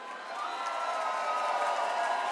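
An audience at a Dutch-language stage show claps and cheers together, a dense, steady wash of applause and whoops that swells slightly and holds for a couple of seconds.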